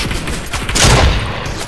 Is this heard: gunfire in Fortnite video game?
yes